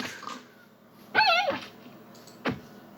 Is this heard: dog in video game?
yes